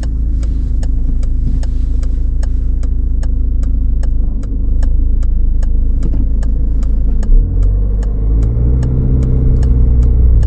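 Car engine during a driving lesson, a steady loud running drone with rhythmic ticking, rising in pitch toward the end as the car accelerates, with no talking.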